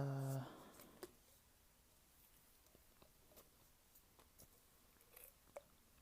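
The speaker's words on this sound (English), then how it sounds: "eating these hemp oil gummies" Quiet, close chewing of hemp oil gummies: soft irregular moist bites and clicks spaced through a near-silent room, following a brief voice at the start.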